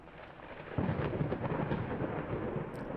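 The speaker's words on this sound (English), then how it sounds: "Wow, that rain's really coming down." Heavy rain and rolling thunder in the Layers of Fear video game: a steady hiss of downpour with a deep thunder rumble swelling in after a moment and sustaining, no voices.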